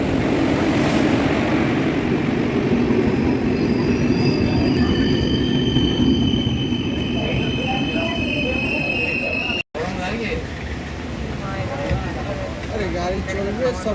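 A train at platform 1 of Bankura station, a loud continuous rumble of wheels and carriages with high squealing tones, a brief dropout, then the rolling noise carries on close by.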